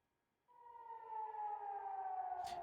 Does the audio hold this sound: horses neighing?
no